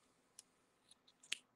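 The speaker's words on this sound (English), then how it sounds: "we're going to cut our yarn" Scissors cutting yarn while finishing a crocheted heart dishcloth, a few faint, sharp snips spaced apart in near silence.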